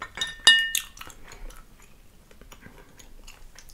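A glass bottle and a drinking glass clink together in one sharp, close ring, followed by quieter taps and handling noises with faint mouth sounds in the background.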